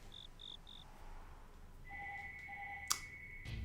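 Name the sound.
telephone ringing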